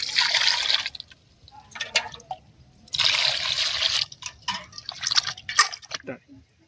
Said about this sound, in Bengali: আলুগুলো ছুলে নিয়েছি, আমি পরিষ্কার করে ধুয়ে নেব